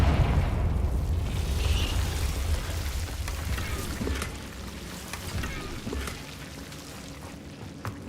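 A Confringo explosion spell goes off in the video game Hogwarts Legacy, a loud, dense blast that spreads into a long rumbling roar with a crackling, rain-like hiss and slowly fades over several seconds.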